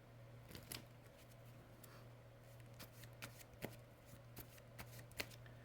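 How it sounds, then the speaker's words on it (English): A deck of cards being shuffled, repeated quick riffles and snaps at a close, quiet level, with a faint steady hum underneath and no speech. "then you shuffle the deck."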